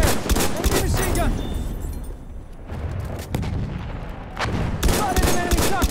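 Sustained machine gun fire and dense battlefield gunfire in Battlefield 1 domination mode, loud continuous bursts with booms and chaotic combat noise throughout.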